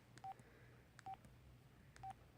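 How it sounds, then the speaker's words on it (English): An old LG flip phone plays a simple electronic ringtone, three short identical beeps repeating about once a second, quiet and alone. "This is my ringtone."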